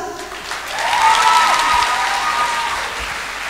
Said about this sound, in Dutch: Nog een groot applaus